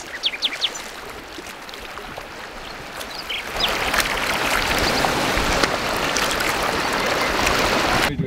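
Water streams across a flooded road in a Costa Rica rainforest, a few drips and splashes at first, then a steady loud rushing flow that continues unbroken to the end.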